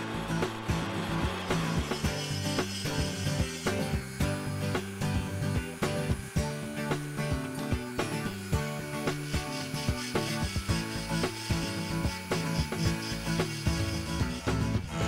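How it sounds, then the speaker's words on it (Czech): Machining of a cast mould for glassmaking, with milling, grinding, turning and drilling, gives a continuous metallic whir and grind with rhythmic scraping pulses and clicks, steady and fairly loud throughout with no talk. "Musí se frézovat, brousit, soustružit a vrtat."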